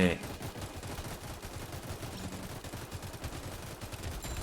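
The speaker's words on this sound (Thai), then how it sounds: "ผมจะใส่ มินิกันเข้าไปอีกสักตัวหนึ่งแล้วกันนะครับ" Minigun tower firing in Roblox Tower Defense, a rapid, continuous stream of small gunshots, fairly faint and steady, mixed with other game sounds throughout.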